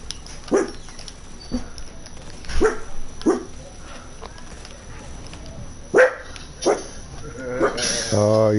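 Dog barking in the video game Division 2, a handful of short sharp barks and yips spaced irregularly, fairly close, with a whimper toward the end over a faint game background.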